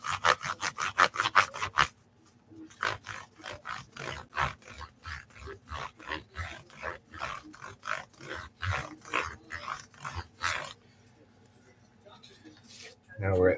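Fine 1000 grit sandpaper is rubbed lightly across the frets of a Stratocaster guitar in quick, even back-and-forth strokes, a close raspy scratching rhythm that pauses briefly, then resumes more slowly before stopping.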